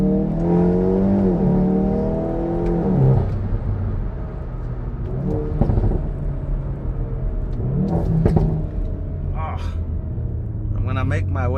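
A Stage 2+ tuned Hyundai i30N with a stock turbo, 333 hp and 480 Nm, heard from inside as its engine climbs through repeated rising revs with gear-change dips and a loud, rumbling drone, while someone talks over it.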